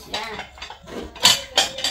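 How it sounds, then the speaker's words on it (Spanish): Ceramic plates clink and clatter as they are set down and stacked, several short sharp knocks in quick succession, close and fairly loud. "ya está colocando los, los platos"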